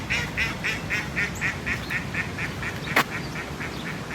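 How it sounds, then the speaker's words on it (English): Mallard ducks at a riverside winter festival quacking in a steady, rhythmic run of repeated calls, with one sharp louder call near the end over low background rumble. "Check out all the mallards."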